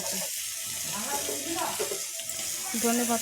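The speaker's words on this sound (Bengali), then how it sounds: "চিংড়ি কষার জন্য হালকা আলতো হাতে ভেজে নিচ্ছি" Shrimp fry gently in a pan with a soft, continuous sizzle, joined by a few stirring clinks and scrapes while someone talks over it.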